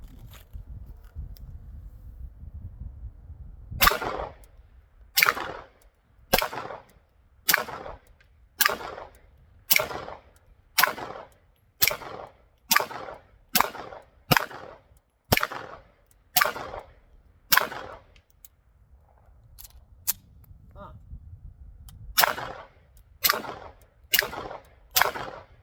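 Canik TP9SFX pistol shots fired at a target outdoors, about twenty sharp, loud reports in a steady paced string with short pauses, one longer gap midway, and quiet between shots.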